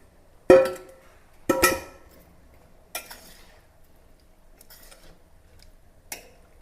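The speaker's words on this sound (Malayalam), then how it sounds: "ഒരു അരക്കിലോ കിലോ ഉരുളൻകിഴങ്ങിനെ എടുത്തിട്ടുണ്ട് അതിട്ട് കൊടുക്കാം" Half a kilo of potatoes going into a cooking pot: a few sharp clattering knocks, the first two the loudest, then softer ones spaced a second or more apart.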